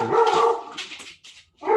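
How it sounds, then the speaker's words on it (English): Several dogs bark close by indoors in a few loud, rapid bursts with a brief pause between them, and no one speaks over them. "my God, these dogs."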